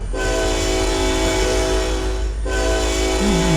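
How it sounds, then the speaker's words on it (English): A model train's horn blares steadily and loudly for several seconds with a brief dip midway, over the rumble of the running locomotive. "we're going to have to sound the horn"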